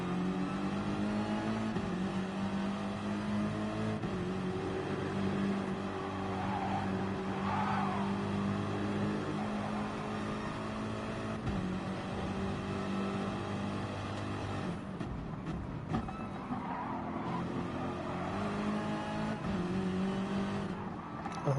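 DTM race cars in a sim racing game roar steadily around the track, a continuous layered engine drone with shifting pitch from several cars, loud and unbroken throughout.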